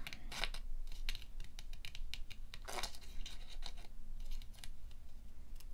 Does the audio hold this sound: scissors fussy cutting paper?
yes